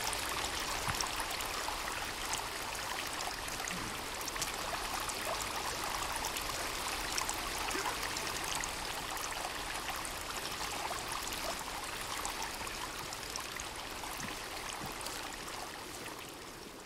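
A stream of water rushes steadily beneath a waterfall in the Sons of the Forest video game, a continuous close splashing wash with no talking.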